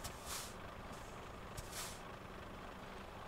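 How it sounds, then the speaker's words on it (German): Air brake hiss from a Wielton NS3C M2 truck trailer in Euro Truck Simulator 2: two short, bright bursts of releasing air about one and a half seconds apart, with a faint click between them, over a steady low background hum and no talking. "Ich finde, die Bremse ist ein bisschen schwach auf der Brust."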